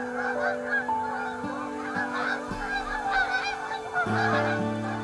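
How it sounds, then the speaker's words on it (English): Canada geese honking while migrating south, a flock calling continuously overhead with overlapping nasal honks at moderate distance, with a low steady hum underneath. "I don't know if you can hear all of the geese migrating south for the winter."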